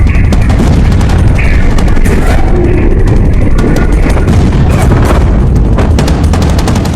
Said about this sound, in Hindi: धमाका कितने कैमरों में कैप्चर हुआ पहले वो देखिए।